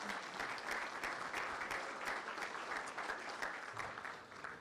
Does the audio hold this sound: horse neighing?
no